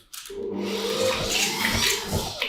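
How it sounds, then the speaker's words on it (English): A kitchen blender whirs into motion after a brief quiet start, holding a loud, steady motor drone with shifting grinding tones as ingredients churn, close to the listener. "Today Shall I we switch offer off? this incredible blender."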